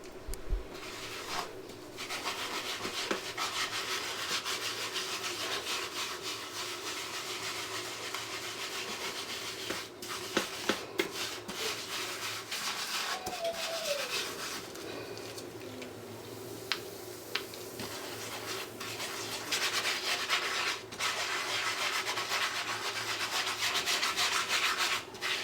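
A wooden chopping board is scrubbed with a lemon and bicarb soda, giving a steady, close rasping rub that continues almost without a break, with occasional small knocks and no talking.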